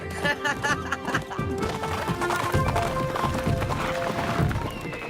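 Cartoon horses gallop in a steady clip-clop of hooves, loud and close, with a bit of laughter and chatter mixed in.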